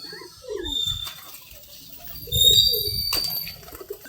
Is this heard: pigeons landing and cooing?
yes